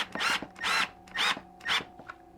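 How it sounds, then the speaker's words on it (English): A small 12-volt power screwdriver drives a screw during assembly of a Holtzfforma G888 chainsaw, four close whirring bursts in quick succession with a constant low hum beneath and no talking. "we'll take our little 12-volt screwdriver"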